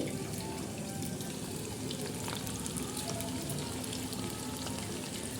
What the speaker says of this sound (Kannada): ಮೀಡಿಯಮ್ ಫ್ಲೇಮಲ್ಲಿ ಇಟ್ಕೊಂಡು ನಾವು ಇದನ್ನು ಎಣ್ಣೆಯಲ್ಲಿ ಫ್ರೈ ಮಾಡಬೇಕಾಗುತ್ತೆ ನೋಡಿ